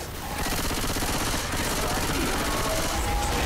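Continuous gunfire in the video game Left 4 Dead 2, a loud, steady stream of rapid shots lasting the whole stretch, close up and filling the space.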